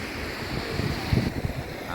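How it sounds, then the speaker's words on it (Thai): Cool breeze blows outdoors beside the water while someone fishes with a cast net, a steady broadband rush of wind buffeting the microphone, with faint gusts swelling midway and no talking. "ลมโกรกลมเย็นสบายมากครับ"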